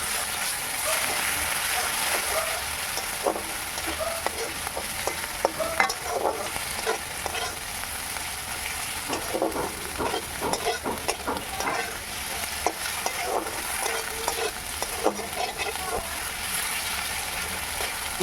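Ginger paste fries in hot oil for a rohu fish curry, a steady sizzle broken by repeated scraping clinks of a spatula stirring the pan, close and continuous.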